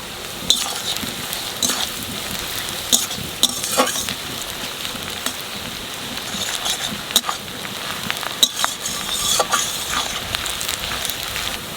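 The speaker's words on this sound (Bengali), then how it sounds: "পেঁয়াজটা অল্প একটু ভাজিয়ে নিছি আমি কাঁচা লঙ্কা দিয়ে দেবো" Sliced onions sizzle in hot oil in a pan with green chilli added, a steady crackling fry broken by several sharp stirring clatters, close and alone with no talk.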